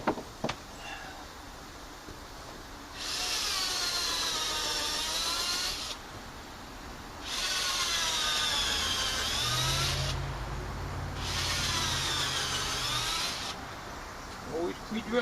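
A power drill pre-drills holes in wood while a tractor shed is being extended, running in three sustained bursts of a few seconds each with pauses between, the motor pitch rising and falling as it bites.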